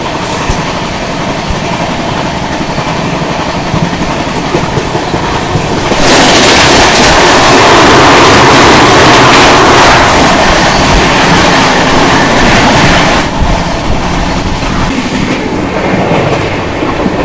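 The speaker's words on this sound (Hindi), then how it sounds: "अब यहाँ पे आ रही है भुवनेश्वर नई दिल्ली राजधानी एक्सप्रेस वाया आद्रा वाली, उसकी क्रॉसिंग दिखाता हूँ।" The Bhubaneswar–New Delhi Rajdhani Express via Adra crosses close by in a loud, steady rush of wheels and rail noise that swells suddenly, holds for several seconds, then drops back to a lower rumble.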